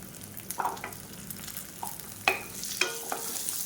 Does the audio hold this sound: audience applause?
no